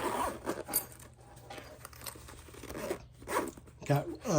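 Several quick raspy zipping strokes with fabric rustle, close by, as a Veto SC-45 tool pouch's YKK zipper is zipped shut; a voice speaks softly in the background.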